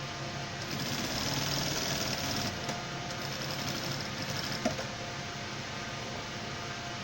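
A sewing machine stitches the leg of a formal trouser, a steady low mechanical whir that runs on without pause and fades slightly midway, with a single small click near the end.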